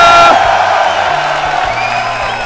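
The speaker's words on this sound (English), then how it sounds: "If you're a fan of EGIdra in the crowd, make some noise for EGIdra!" A large crowd at a StarCraft II tournament, MLG Columbus 2011, cheers and whoops in a loud, sustained roar that fades slightly toward the end.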